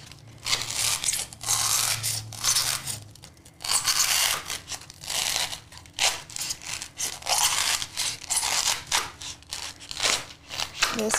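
Repeated crisp snips and crunchy cutting as scissors cut stiff peel-and-stick tile in half, close by and fairly loud, in steady bursts with brief pauses between cuts.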